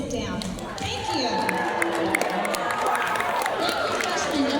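Students clap at a Veterans Day school assembly in a large room, a sustained crowd noise of scattered clapping with chatter and shouting throughout.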